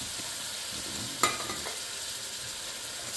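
Diced tomatoes with garlic and herb simmering in a jambalaya sauce with sausage and onions, a soft steady bubbling hiss with one brief clink of a utensil partway through.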